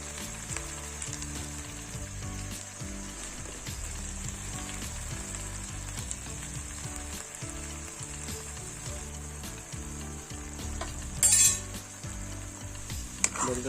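Mudskipper chili bubbling in a pan, a steady close sizzle and bubbling simmer with occasional faint clinks of utensils, no talk.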